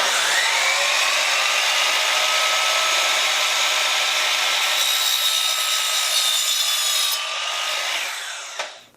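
A power saw cuts wood pieces to length for a repair, a loud, steady, high-pitched whining cut that runs continuously for several seconds before tapering off, followed by a small knock at the end.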